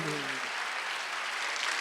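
A church congregation applauds after a brief spoken phrase. The clapping is a soft, sustained patter that sounds somewhat distant in a large room.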